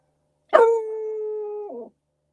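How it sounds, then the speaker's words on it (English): A single dog lets out one drawn-out howl that starts with a sharp yelp, holds a steady tone for over a second, then wavers and cuts off, standing alone against silence. "I'm getting a little distracted by these dogs"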